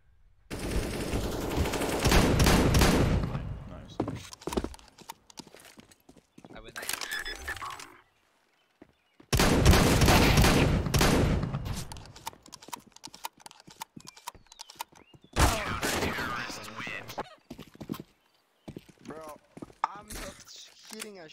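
Rapid bursts of gunfire in a CS:GO competitive ESEA match, loud and broadband, arriving in several separated volleys with quieter gaps between them.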